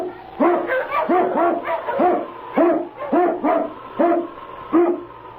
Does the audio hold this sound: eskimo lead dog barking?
yes